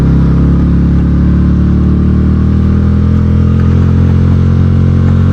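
A 2026 VOGE CU625 AMT cruiser motorcycle rides over a washboard road, a loud, close, continuous engine rumble with steady rattling and clatter throughout.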